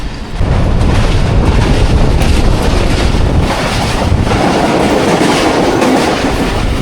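Pakistan Express train rolling along the rails between Rawalpindi and Wazirabad on a rainy early morning, a steady loud rumble with rhythmic clatter and wind noise, heard close from aboard with no talk.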